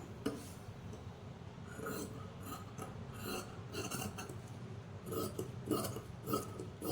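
Scissors snip through blouse fabric in a steady series of crisp, close cuts, repeating at an even rhythm with no talking.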